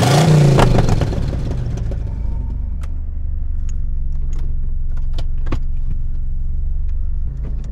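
A Fiat 500 with a 1.2-litre petrol engine cranks and fires up, then settles into a steady low idle, with a few small clicks and rattles heard nearby.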